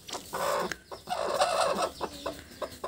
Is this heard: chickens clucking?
yes